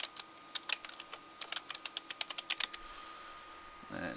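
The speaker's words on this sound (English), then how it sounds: "And then we're going to type in." Typing on a computer keyboard produces a quick run of light, close key clicks in an uneven rhythm, with no talking heard.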